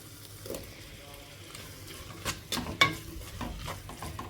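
Chopped grapes and dates stirred into simmering vinegar for a pickle, a quiet low bubbling hiss with soft scraping stirs that grow busier and louder toward the end, a faint voice in the background.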